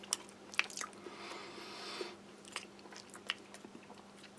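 Close, quiet chewing of Russian army ration meat with kidney beans and vegetables, soft wet bites and mashing with a few sharper clicks, heard alone over a low steady hum.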